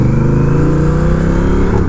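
A Honda Rebel 1100 motorcycle with an aftermarket exhaust blasts past close by, a loud sustained engine roar wound out in second gear with a steady throaty drone throughout.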